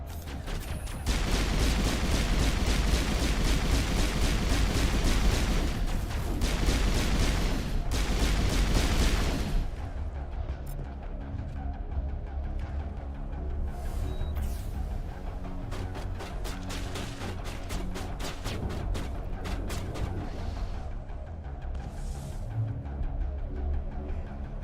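Pistol shots in a video game ring out as a dense, loud string of rapid bangs for several seconds, then give way to quieter scattered gameplay noise and sparse clicks.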